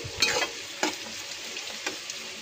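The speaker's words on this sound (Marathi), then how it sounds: "आपल्या भाज्या आता फ्राय झाल्यात" Chopped vegetables hiss and crackle in a hot pan while a spatula scrapes through them in a few quick, separate strokes, close and fairly quiet.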